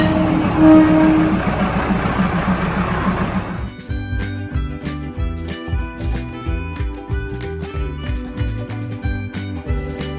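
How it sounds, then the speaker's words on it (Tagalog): A train on the Maeklong Railway in Thailand rumbles loudly past up close for a few seconds, then gives way to steady rhythmic clatter with a repeating mechanical pattern. "nakadaan na yung train"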